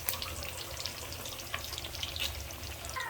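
Leftover lechon fries in hot oil for lechon kawali, a continuous crackling sizzle with scattered pops and spatters, close and moderately quiet, with no talking.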